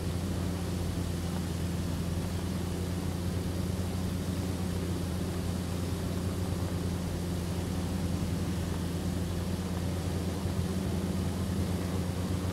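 The engine of a VSKY LABS A22LS Foxbat light aircraft drones steadily during a climb, heard from inside the cabin as a constant loud hum and wash of noise with no talking.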